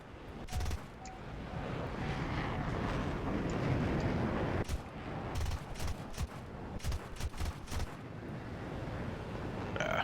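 Rapid machine-gun bursts from an F-86A-5 Sabre in a jet combat video game. Several short, sharp volleys cut through a steady, loud engine roar, with a clustered run of shots in the second half.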